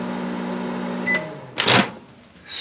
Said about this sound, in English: I'm just going to turn it on for about 5 seconds because I don't have anything to put in here yet.